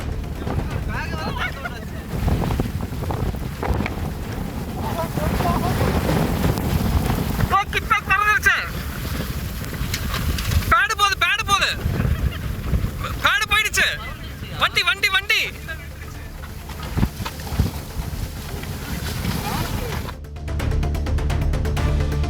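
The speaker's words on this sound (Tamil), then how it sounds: "திடீரென சிறிய அளவிலான சுழல் காற்று உருவானது" A small whirlwind sweeps across open ground where a cricket mat and sports gear lie, its gusts roaring and buffeting loudly beneath a narrating voice.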